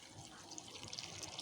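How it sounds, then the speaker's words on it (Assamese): Hot water poured into a curry of goat meat with masoor dal, a faint, brief stream of liquid splashing and trickling close by. "তাৰ গৰম পানী দিয়া হ'ল"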